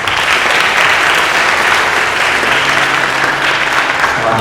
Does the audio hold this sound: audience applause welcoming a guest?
yes